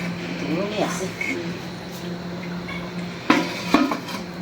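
A metal ladle stirs khichuri in a cooking pot, with a few clanks and scrapes against the pot after some faint clatter. Voices talk in the background.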